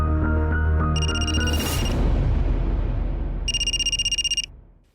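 A telephone rings in a tense household drama scene, two bright trilling bursts separated by a pause, loud and close over a low background hum and rumble.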